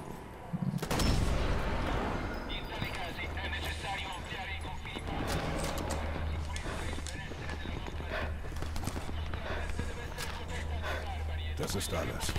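Rifle fire in the Sniper Elite 4 war game, sharp cracks over galloping horse hooves and battle ambience, with someone talking throughout in German.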